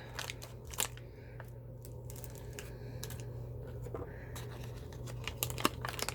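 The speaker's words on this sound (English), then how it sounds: "We'll just try to cut this with these little scissors here so we can take them out." Quiet, intermittent snips and crinkly crunches of small scissors cutting plastic packaging of a paint-by-number kit, with soft scattered clicks over a low steady hum.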